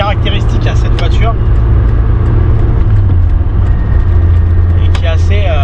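A 1989 Peugeot 205 1.1 XL engine, carbureted with a straight exhaust, rumbles steadily at idle with a deep, throaty note, loud and close, with some voices and background noise over it.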